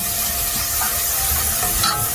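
Onion and garlic, turned golden, sizzling and frying steadily in oil in a pan, a close, continuous crackle with occasional stirring, no voices.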